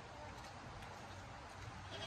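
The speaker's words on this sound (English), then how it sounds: "the goats are still getting used to Tipsy" A goat bleats faintly a few times against a steady low hum and background noise, with no talking.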